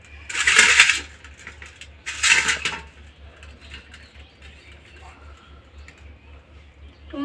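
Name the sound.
knife cutting tomatoes on a board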